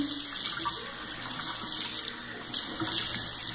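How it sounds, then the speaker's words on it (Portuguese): Tap water runs steadily from a faucet while a sugar face scrub is rinsed off, a continuous close splashing hiss that swells briefly twice. "E agora a gente vai enxaguar."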